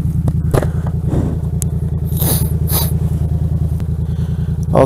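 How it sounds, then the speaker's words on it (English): A car idles behind a motorcyclist waiting at a red traffic light, its steady low engine rumble close and continuous, with faint wind and helmet noise over it. "there's a car behind me"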